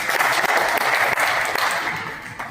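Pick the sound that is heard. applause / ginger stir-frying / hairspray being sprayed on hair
applause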